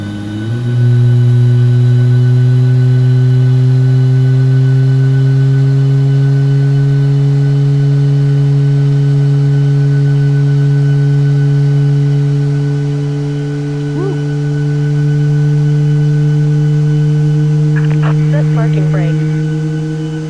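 In a 737 MAX 8 flight simulator, engine number 2 spools up during start into a steady, loud rising hum with strong low tones that holds for about twenty seconds, with faint clicks near the end.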